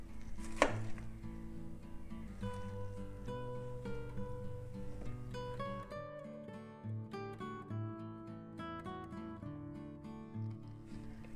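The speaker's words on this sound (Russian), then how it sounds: "Затем кружочки нарезаю брусочками, также примерно сантиметр толщиной." A knife taps repeatedly on a cutting board in quick, uneven chops while cutting zucchini rounds into sticks, set under gentle background music.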